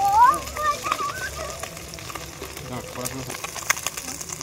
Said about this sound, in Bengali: বন্ধুরা মাছটা মোটামুটি লাল করে ভেজে নিয়েছি